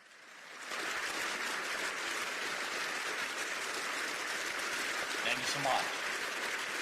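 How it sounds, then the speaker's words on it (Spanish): Members of the European Parliament give a long ovation to Volodymyr Zelensky on the 1000th day of the war in Ukraine, a steady dense wash of distant applause that swells in after a quiet start and holds throughout. "Con una larga ovación a un Volodymyr Zelensky visiblemente emocionado."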